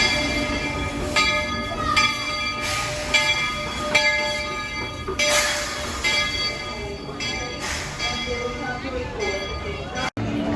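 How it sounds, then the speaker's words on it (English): A Walt Disney World monorail at Magic Kingdom passes by with a steady rolling rumble, while a bright chime-like tone and busy crowd chatter fill the surroundings throughout. "There's a monorail."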